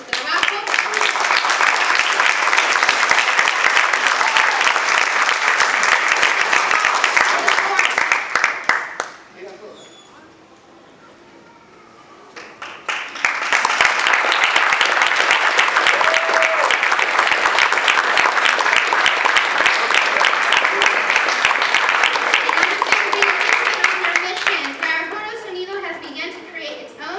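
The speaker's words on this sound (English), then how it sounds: "So let's give them a big applause" Loud, sustained applause from an awards ceremony audience, dense clapping that drops into a brief quiet lull with faint voices, then swells back into a second long stretch of steady clapping.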